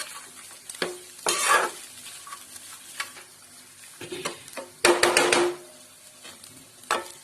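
Kande pohe, flattened rice with onion, frying on low heat in a pan, with stirring scrapes and bursts of sizzle coming in uneven clusters over a soft steady crackle, close and fairly loud, with no talking.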